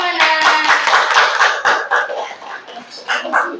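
Students clap hands in a classroom as a group is called to the front, a burst of rhythmic clapping with voices talking and calling out over it, fading into scattered claps toward the end.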